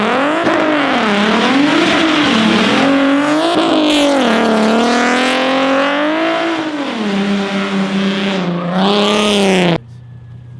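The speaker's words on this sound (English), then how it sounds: "Can you do some donuts for us?" A 3.8-litre automatic car does donuts, its engine loudly revving in rising and falling sweeps with a faint tire squeal mixed in, continuous and close until it cuts off abruptly near the end.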